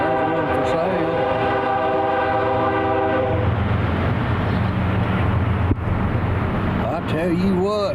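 A loud Canadian National freight train horn blares in long sustained tones over the heavy rumble of the passing train, with wind and rail noise throughout.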